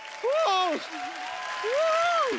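Studio audience applauding on a comedy show with a celebrity guest, broad clapping running underneath an expressive voice that speaks over it.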